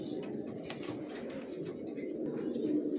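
Racer pigeon squabs, a young male and female pair, coo softly and continuously at close range, a steady low murmuring with no talk.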